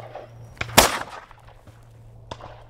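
A single loud shotgun blast fired at a clay target, a sharp crack followed by a short fading echo, with quieter clicks and knocks before and after.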